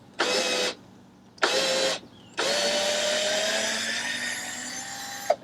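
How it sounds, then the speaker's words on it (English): A cordless drill backs screws out of old deck boards, whirring in two short bursts and then one long sustained run, fairly close and clear with no talking. "So we start by removing the screws, which is easier than removing the nails,"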